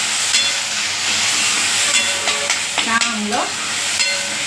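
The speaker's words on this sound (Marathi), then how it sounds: "कांदा परतला की ते असं मला कांदा टोमॅटो एकदाच परतून घ्यायला आवडतं" Onion and tomato fried and stirred in a pan, a loud steady sizzle with a few spatula scrapes close by, and a brief spoken word partway through.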